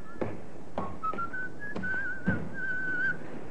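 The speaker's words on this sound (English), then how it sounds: "that fellow there, whistling" A man whistles a wavering melody in a radio drama, fairly close, with a few soft thuds and footsteps in the background.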